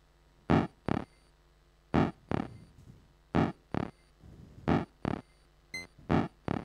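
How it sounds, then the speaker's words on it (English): Hacked Game Boy sound card chiptune played back as short, punchy bursts in an uneven rhythm, about a dozen bright buzzy hits with gaps between them, heard alone with no talk. "kind of a hacked Game Boy sound card-ishy sound"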